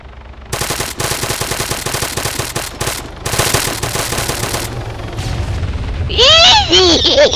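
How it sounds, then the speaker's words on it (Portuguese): Arma 3 combat: sustained loud automatic gunfire in rapid bursts, then a heavy explosion rumble, with players talking over the noise. "E daí explodiu, quase me mata, velho."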